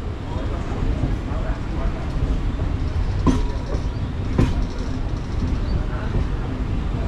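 A passenger train running from Howrah toward Purulia via Moshagram junction rumbles steadily as it pulls in, with two sharp clanks from the carriages amid constant rolling noise and people talking.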